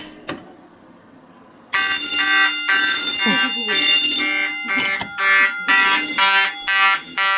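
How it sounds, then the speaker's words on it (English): Loud fire alarm blares nearby in repeated harsh electronic bursts after a quiet start, with a brief exclamation from a person. "Pull down local fire alarm."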